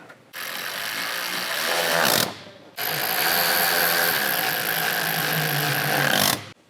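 A power tool drives OEM 10 mm bolts back into Ironman 4x4 underbody protection on a 2022+ Toyota Tundra, two loud sustained whirring runs separated by a brief pause, close and without talk.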